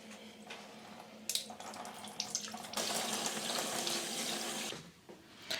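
Running tap water rinsing face cleanser off at a sink, a steady close splashing stream with hand-scooping bursts that swells and then eases off near the end.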